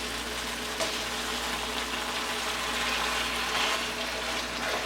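Beef stew with tomatoes and bell pepper simmers on medium heat, giving a steady, close bubbling and sizzling hiss with faint small pops over a low background hum, and no one speaking.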